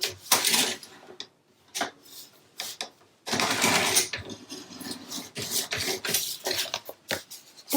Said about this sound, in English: I just laid it in my trimmer and trimmed off that little bit